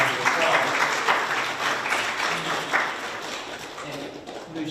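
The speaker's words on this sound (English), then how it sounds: "Please give them a round of applause." An audience claps together in dense, sustained applause that gradually fades toward the end.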